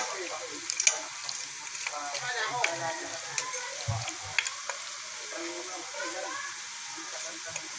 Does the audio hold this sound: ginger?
yes